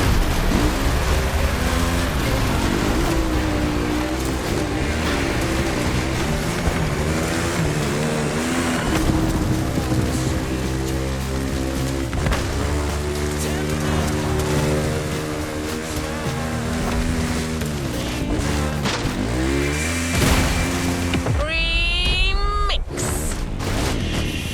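A Kawasaki KX450 dirt bike engine revs and howls continuously, pitch rising and falling with throttle changes as it rides, loud and close throughout.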